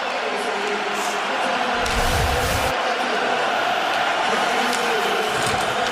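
Hockey fans at a Montreal Canadiens home playoff game against the Penguins erupt after a Canadiens goal, a loud, dense arena roar of cheering that swells and holds for the full stretch.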